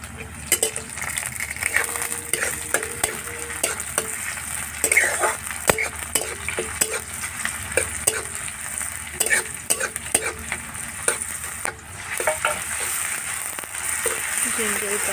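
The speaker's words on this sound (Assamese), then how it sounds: "जिंजर गार्लिक और चिली पेस्ट भाजते रहेंगे" Ginger, garlic and chili paste frying in a pan, steady sizzle with frequent spoon scrapes and stirring clinks, a voice talking at moments over the cooking.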